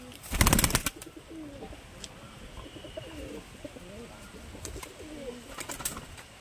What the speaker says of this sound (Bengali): দেশি পায়রা দুটো।